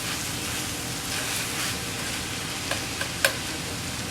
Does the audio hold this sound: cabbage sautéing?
yes